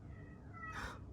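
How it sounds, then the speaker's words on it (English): A pet cat gives a single faint meow in a quiet indoor room where someone is painting. "Do you hear my cat?"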